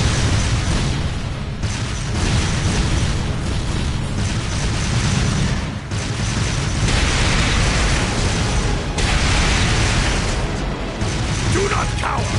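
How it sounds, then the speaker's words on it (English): Artillery barrage in Trails of Cold Steel II, a continuous roar of booming explosions and crackling bursts that swells and dips in waves without pause. "Fire a barrage to cover your retreat!"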